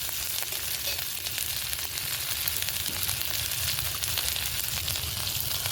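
Onions frying with ginger-garlic paste in a pan give a steady, dense sizzle that holds even and fairly loud throughout, with no voices.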